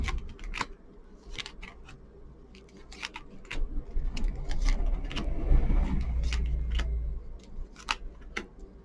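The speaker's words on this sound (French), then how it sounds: "Coupe. Et je positionne mes cartes." Tarot cards are cut and laid out on a table in a series of crisp slaps, flicks and slides, some close together, with a brief busier rustle of shuffled cards midway.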